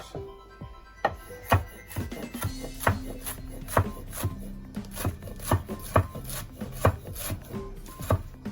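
Chanterelle mushroom stalks rocked through with a sharp knife on a board for a gluten-free carbonara, a steady run of close, crisp chopping taps roughly every half second.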